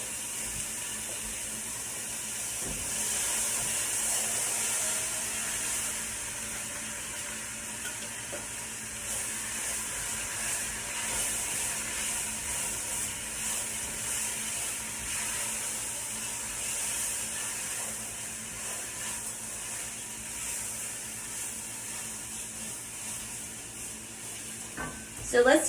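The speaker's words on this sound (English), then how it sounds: "So I hear that sizzle." Vegetables and rice frying in a pot, a soft continuous sizzle with occasional stirring clinks, fairly quiet and steady.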